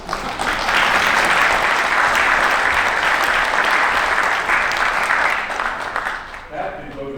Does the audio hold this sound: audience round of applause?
yes